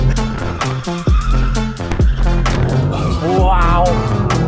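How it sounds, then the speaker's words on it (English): A car on a hot lap revs hard and drifts, its engine roaring loudly and steadily while the tires squeal in a wavering screech toward the end. "I wish I could drift like you just drifted."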